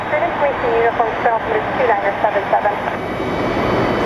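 Southwest Boeing 737 MAX 8 jet airliner at Phoenix Sky Harbor Airport, a steady engine roar rumbling throughout under someone talking over it.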